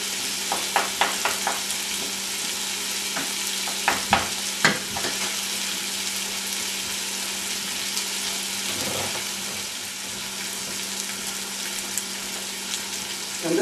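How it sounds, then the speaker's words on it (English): Tomatoes being stirred and crushed with a small wooden tool in a pot where onions and potatoes are cooking for minestrone soup, with continuous close sizzling and scattered knocks and scrapes, heaviest early on. "As the onions and potatoes are cooking, you stir the tomatoes and you crush them with this little apparatus here made out of wood"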